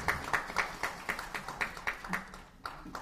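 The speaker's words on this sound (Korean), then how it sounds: "네, 박수만 부탁드리겠습니다." A press gathering of Korean and North Korean labour union leaders in Seoul applauds in a thin, steady round of claps, moderately distant and fairly quiet, ending as a voice begins speaking.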